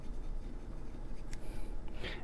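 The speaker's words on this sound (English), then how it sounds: "Now this is a blue medium rollerball by Parker. And it feels scratchy. I mean, you might even be able to hear it." A blue medium Parker rollerball pen scratches across paper in close, faint, continuous strokes, with a few sharper scrapes near the end.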